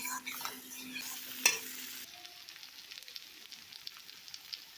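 Leftover cooked rice stir-fried in a pan with onion and curry leaves for tamarind rice: close scraping and stirring over a soft sizzle, with a sharper clatter early on, no speech.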